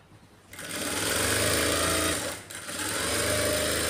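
Sewing machine stitching lining cloth for a long boat-neck frock, a fast continuous motor whir with rapid needle chatter starting after a short pause, briefly stopping and then running again.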